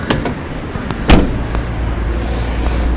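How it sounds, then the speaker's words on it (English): The sliding side door of a fully electric Peugeot Partner van opens with one sharp clunk and a short rolling slide, close and loud, followed by quiet, faint background rumble. "Sliding door on this side."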